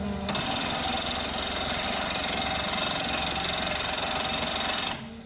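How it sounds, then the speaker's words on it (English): Steady, loud mechanical hammering from a tap hole drill machine drilling with right rotation, a rapid rattling pulse running continuously for several seconds and then cutting off. "Drill rotation right. Hammering intensity."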